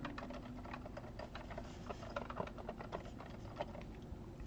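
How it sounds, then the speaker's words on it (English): Keys and pads tapped on an Akai MPK Mini MIDI keyboard, quick soft plastic clicks in an irregular run, close and quiet. "Whoa, keyboard sounds."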